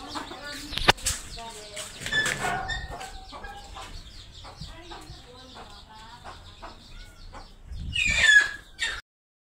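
Hens being fed rice cluck in short repeated bursts nearby, with a louder squawking flurry near the end and a voice calling faintly between.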